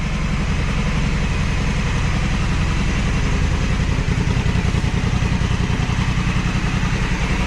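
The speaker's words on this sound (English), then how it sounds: "It sounds like a V-twin. The firing is also, I think, at a 270 degree, and you can listen to the beat." A 2020 Honda Africa Twin Adventure Sports 1100 DCT with a 270-degree V-twin idles close by, its loud, steady, uneven lumpy beat running throughout with no talk.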